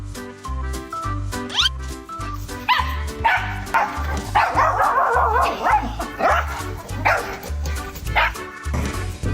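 A stubborn pup barks and yips repeatedly in a steady rhythm, close and loud, with whimpering, higher yelps mixed in throughout.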